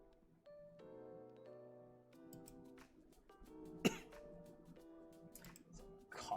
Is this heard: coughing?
yes